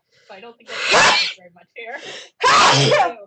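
A loud, close sneeze bursts out in two stages, a sharp first explosion and a stronger second one, amid casual talk among players at a tabletop role-playing game session.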